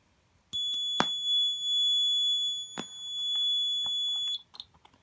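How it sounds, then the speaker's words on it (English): A shrill, steady electronic buzzer tone sounds for about four seconds without a break, with a few clicks at the start and finish. "a sound is emitted from our piezo buzzer, just like this"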